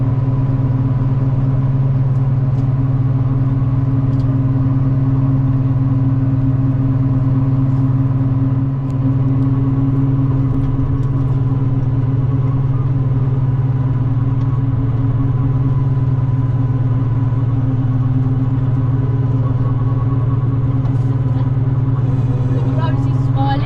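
A McCulloch mower engine runs steadily and loudly as it cuts through overgrown, jungle-like grass, holding a constant droning hum with little change throughout.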